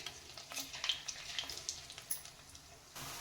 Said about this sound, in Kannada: ಸ್ವಲ್ಪ ಎಣ್ಣೆಯಲ್ಲಿ ಫ್ರೈ ಮಾಡ್ಕೊಳ್ಳಿ